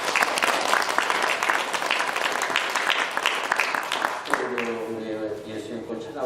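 Korean church congregation applauding after a choir's hymn, sustained clapping that fades into a voice and tonal music in the final seconds.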